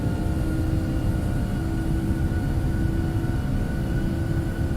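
Boeing 757-300 engines at takeoff power in X-Plane 11, a steady, loud, droning roar with a low rumble and faint sustained tonal whine, unchanging throughout with no voices.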